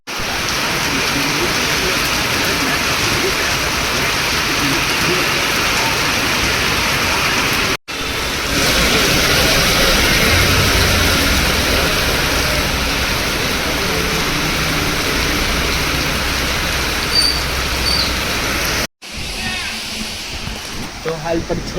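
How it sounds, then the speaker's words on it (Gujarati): Heavy rain pours steadily during a monsoon evening, a loud, dense, unbroken hiss that continues for the whole stretch, with two brief cuts. "અને વરસાદ ઊભો નથી રહ્યો"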